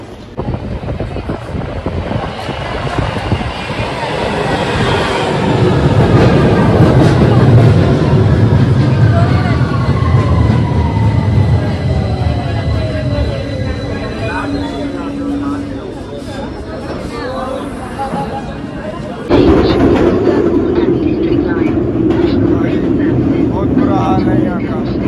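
A London Underground train pulls into a station, a broad rumbling roar with rising and falling tones as it slows, loud and close, with someone talking over it.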